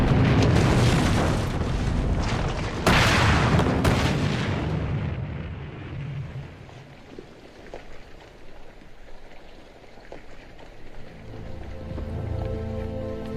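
A studio cannon-shot sound effect for a Second World War documentary: a heavy, booming blast, a second deep impact a few seconds later, then a long rumbling decay fading into quieter low noise.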